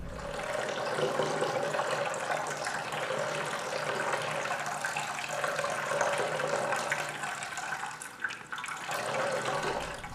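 Water pours steadily into a vessel during a water-sharing ceremony, a continuous splashing stream lasting the full stretch, close and fairly loud with no talk over it.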